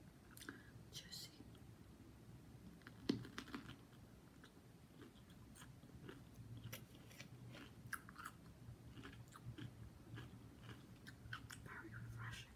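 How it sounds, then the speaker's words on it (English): Close, soft crunching and chewing of a fresh cucumber, with repeated bites and wet mastication in a quiet setting, accompanied by faint whispering. "A nice little crunch to it."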